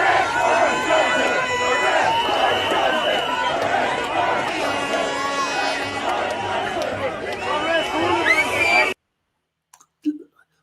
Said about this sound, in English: Look at the size of that crowd.